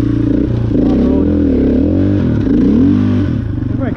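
A KTM 500 enduro motorcycle engine revs up and down in a desert setting, its loud buzzing note climbing and dipping in repeated swells, close and steady throughout.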